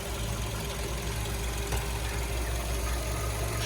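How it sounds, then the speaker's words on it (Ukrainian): A Volkswagen Golf 5 1.6 MPI engine idles evenly nearby, a steady low mechanical hum with a light ticking texture and no changes in revs. "Двигун працює рівненько кришечку притягує."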